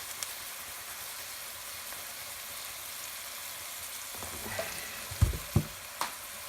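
Pasta sauce fries with a steady soft sizzle in a pan, then a few sharp knocks and scrapes of a spoon stirring near the end, close and alone.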